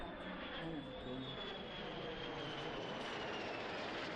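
Belgian Air Force F-35 fighter jet landing, a broad steady engine roar that stays loud and even throughout, with a faint whine riding above it.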